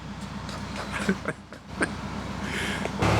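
A steady low narrowboat engine drone runs throughout, with a few brief clatters and knocks over it and a louder rumble building near the end.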